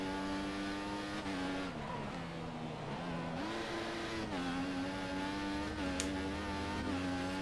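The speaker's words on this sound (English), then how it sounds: "There's just cars everywhere." Race cars lap a track in the F1 2014 video game, with continuous engine whine rising and falling in pitch as cars accelerate and shift, played at a moderate, steady level without any talk.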